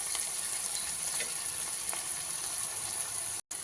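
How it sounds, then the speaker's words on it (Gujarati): Onions and potatoes fry in a pan with cumin and green chillies, a soft steady sizzle with faint crackles, low and continuous, with no one talking. "આપણા ડુંગળી બટેટા એકદમ ફ્રાય થઈ ગયા છે"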